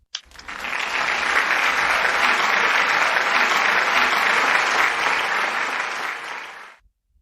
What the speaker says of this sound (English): With a big, big round of applause, please welcome Dada Gunamuktanandji.